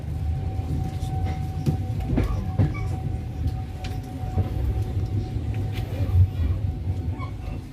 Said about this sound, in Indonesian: kereta api Serayu Malam berhenti untuk menaikkan penumpang di Stasiun Bekasi